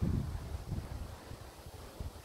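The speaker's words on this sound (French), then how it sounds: "malgré ce vent qui passe à travers moi et qui m'apporte cette énergie dont j'ai besoin" Wind blowing steadily and fairly faintly, with low gusty rumble and soft rustle like air buffeting a microphone, alone without talk.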